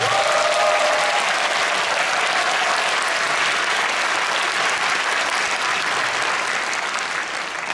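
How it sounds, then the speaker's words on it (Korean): An audience at a navy anniversary concert at Olympic Hall in Seoul claps loudly and continuously, a dense, steady wash of applause filling the hall without speech. "큰 박수 한번 부탁드립니다."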